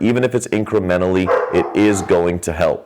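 Excited dogs barking and yipping indoors, short sharp yips scattered under a man's continuous speech close to the microphone.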